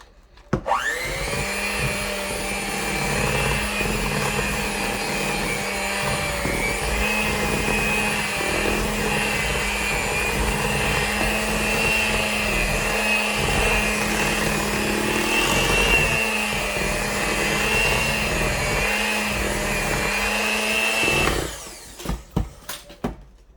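Electric mixer whirring steadily through vegan vanilla cake batter for about twenty seconds, a loud constant motor whine that stops abruptly, followed by a few clinks.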